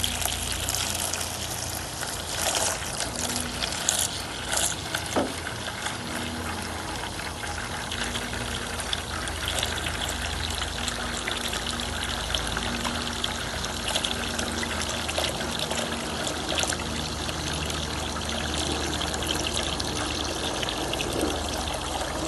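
Tap water runs steadily through the rusty cooling system of a London taxi as it is flushed, a constant trickling rush at moderate level with no talking.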